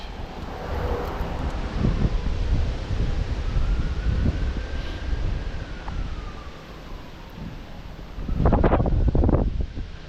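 Wind blowing through woods, a broad roaring gust buffeting the microphone, rising and falling, with a faint distant siren-like tone in the middle and stronger bursts near the end.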